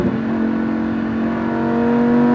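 A Lamborghini Huracan on a track at SpeedVegas, its engine holding a steady, loud droning note that climbs slightly as the car accelerates, heard from inside the cabin with no talking.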